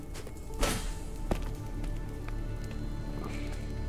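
Steady rain noise in a fire-themed action platformer game, a broad continuous hiss with a couple of brief sharp ticks early on, moderately loud and alone with no talking.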